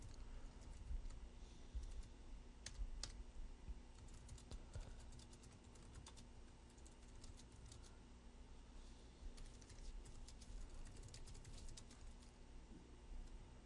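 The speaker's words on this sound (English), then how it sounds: "is typing this out" Keys tapped on a computer keyboard in a steady, fairly quiet stream of clicks over a constant background hum during an MMO game development livestream, with no speech.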